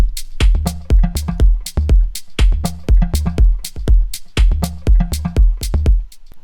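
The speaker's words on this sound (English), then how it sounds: "And then we have a second tom sound" A looped tom drum sequence programmed in Ableton for organic house, with loud, punchy tom hits in a steady repeating pattern, varied accents and no other sounds.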